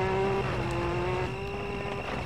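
A steady, loud rally car engine drone with a high sustained whine, holding revs in the video game World Rally Championship 3, continuous with no voices.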